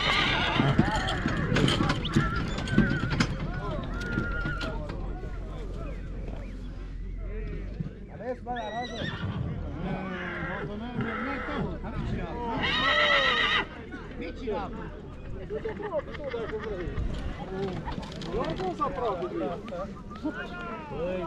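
A stallion in Reghin, Mureș, Romania, neighs and whinnies amid clip-clopping hooves and a busy outdoor crowd, with people talking loudly throughout and the horse calls rising now and then above the voices.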